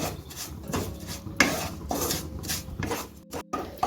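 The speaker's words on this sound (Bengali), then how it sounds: "এখন চিনিটা আমি ক্যারামেল করে নেব দেখুন আমার চিনি গলতে শুরু করেছে এখন অনবর্তন নাড়তে থাকবো" Melting sugar being stirred steadily in a pan to caramelise it, a continuous close scraping and rubbing of the spoon against the pan with occasional clinks, no talking.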